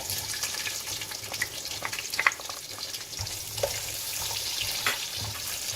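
Onions frying in a pan for paneer biryani give a steady, close sizzle with scattered crackles and pops, with no talking over it.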